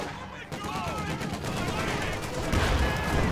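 Dense, continuous machine gun fire from a Company of Heroes 2: Ardennes Assault battle, with overlapping bursts and distant battlefield rumble forming a steady, loud wall of gunfire throughout, swelling slightly toward the end.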